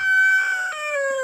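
A single loud, close rooster crow rings out in a sustained call that wavers and trails off, with no talking over it.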